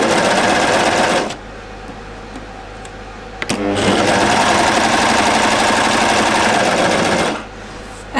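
A sewing machine runs in two long fast bursts of stitching along a knit jumpsuit's neckline toward the shoulder seam, separated by a quieter pause, with no talk.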